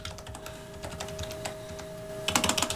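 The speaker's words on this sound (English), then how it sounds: "Let me just type one thing real quick." A short burst of computer-keyboard typing on a PC, a quick run of close, crisp key clicks near the end after a quieter stretch of faint tapping.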